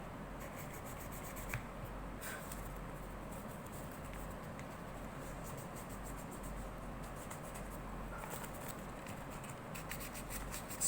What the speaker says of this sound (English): I'm just using my 1500 grit sandpaper just to